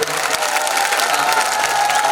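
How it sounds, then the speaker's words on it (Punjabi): A crowd at a live music show claps steadily and densely, with faint cheering mixed in throughout. "ਤਾੜੀਆਂ ਜ਼ੋਰਦਾਰ ਨਹੀਂ ਹੁੰਦੀਆਂ ਇਹ ਐਵੇਂ ਹੁੰਦੀਆਂ ਜ਼ੋਰਦਾਰ"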